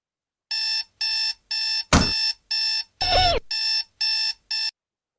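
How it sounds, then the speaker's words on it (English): An alarm clock rings in the morning with even, loud beeping bursts in a steady rhythm, about eight pulses, two of them overlapped by a brief rushing sound. "Every morning my alarm clock wakes me up for school."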